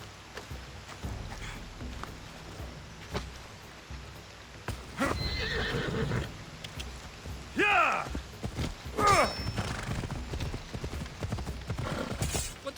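Hooves clip-clop on a horse in the Assassin's Creed Odyssey video game, with a loud whinny midway and more sharp neighs near the end, over a steady game soundscape.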